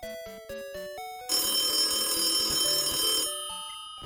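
An old-style red desk telephone rings in a Pokemon Crystal randomizer game session, with bright repeated bell trills in short bursts, then a long sustained ring, loud and close, with no talking over it.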